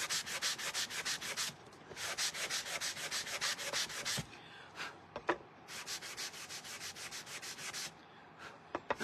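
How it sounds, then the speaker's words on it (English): A power sander works over painted wooden shelf sitters in repeated bursts of fast, gritty rubbing, stopping and starting with short pauses and a few light knocks between passes, moderately quiet and close. "I'm going to go ahead and take my sander. And we're just going to sand these just a little bit."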